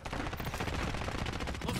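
Rapid, closely spaced gunfire from a gun switched to semi-auto in a multiplayer shooter video game cracks out in a steady rhythm, loud and near, with no talking over it.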